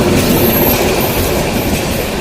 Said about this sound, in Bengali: উপকূল ঢাকা অভিমুখী উপকূল উত্তরা আদমপুর রেলগেট প্রপাস হয়ে যাচ্ছে